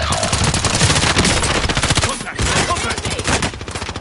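Rapid, loud automatic gunfire hammers almost without pause in a Call of Duty Warzone firefight. The bursts are close and dense, with a brief lull near the middle, and there is no talk over them.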